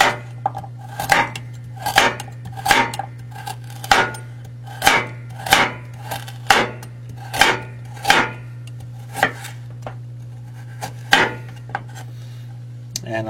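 Chef's knife chopping the ends off a vegetable on a cutting board, about a dozen crisp, evenly spaced knocks over a steady low hum.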